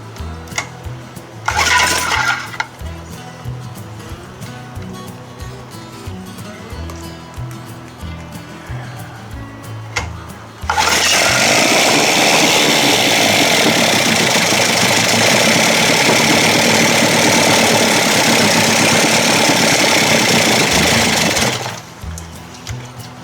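A 1956 Evinrude 7.5 hp outboard motor is pulled over and catches, settling into a loud, steady idle that runs for about ten seconds before cutting off. Scattered handling noises come before it, and no one speaks.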